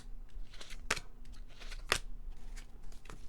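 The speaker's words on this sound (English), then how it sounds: "I'll just shuffle up a bit, and we'll take 3 last message cards" Tarot cards are shuffled and cut by hand nearby, with soft rustling and two sharp riffling snaps amid quieter card handling.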